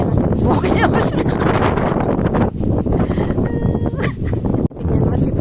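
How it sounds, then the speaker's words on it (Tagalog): Strong wind in France buffets the microphone in loud, roaring gusts, with voices talking intermittently underneath. "Sobrang hangin."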